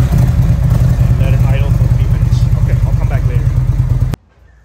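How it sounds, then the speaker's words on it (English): An Indian motorcycle with a ThunderStroke V-twin starts up and settles into a loud, steady, lumpy idle close by, then the engine cuts off abruptly near the end. "All right, and start the bike."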